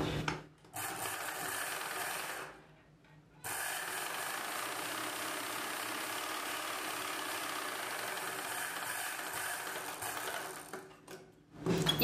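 Sewing machine stitching a folded blouse collar piece, a steady close mechanical whir running for long stretches, with a brief pause early on and stopping near the end.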